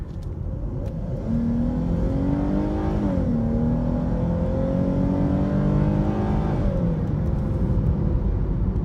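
A 2018 Dodge Charger SXT fitted with a K&N drop-in air filter accelerates hard, its engine note climbing steadily through a shift and pulling again in a loud, sustained run with no talking.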